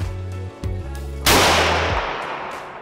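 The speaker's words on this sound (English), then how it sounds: "Don't be anticipating that gun going off." A single loud gunshot from a gun during a hunting outing cracks sharply and then rolls off in a long, fading echo, following a low, droning hum.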